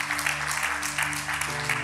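A church congregation claps in praise during a worship service, a dense burst of hand claps over sustained organ or keyboard chords, with no voices on top.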